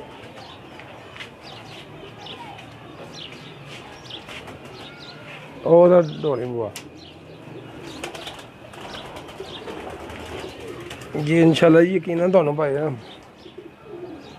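Pigeons coo near and far behind ongoing conversation, with two louder bursts of throaty, wavering cooing standing out from the steady chatter of voices.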